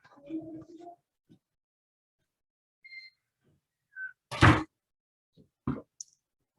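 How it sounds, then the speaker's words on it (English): An indoor door swung shut to cut background noise, landing as one short, solid thump close by, with brief voice fragments and small clicks around it in an otherwise quiet room. "I'm gonna close the door so we can reduce some of the noise in my background."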